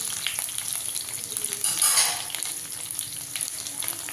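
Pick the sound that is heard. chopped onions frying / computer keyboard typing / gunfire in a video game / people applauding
chopped onions frying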